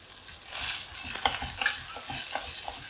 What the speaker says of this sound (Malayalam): എല്ലാം കൂടിയിട്ട് നന്നായിട്ടൊന്ന് വഴറ്റിയെടുക്കാം